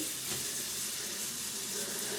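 Water runs steadily from a tap in a bathroom to wet a shaving brush, a continuous close hiss and splash that holds at an even level throughout.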